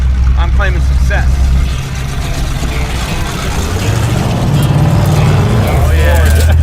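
A 1937 Pontiac pulled from a junkyard barn drives with header mufflers, its low engine drone steady and close, dipping briefly before building again as people talk over it.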